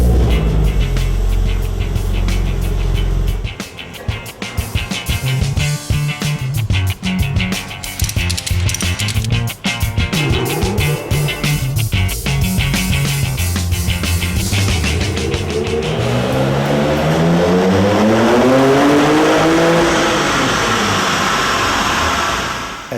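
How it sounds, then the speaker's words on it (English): A Ruf Porsche engine runs on a dynamometer in a dyno room, its loud drone broken by sharp revving bursts before climbing into long, rising sweeps of high-rpm wail near the end. "Every motor that we build comes to our dyno room and is being tested in the dynamometer"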